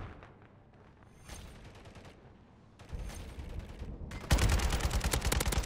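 Kastov 762 AK-47 rifle fire in Modern Warfare 3, rapid automatic bursts of sharp cracks in a video game, starting sparse and quieter and building to a loud, dense sustained burst at the end.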